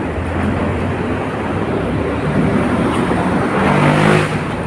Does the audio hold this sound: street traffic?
yes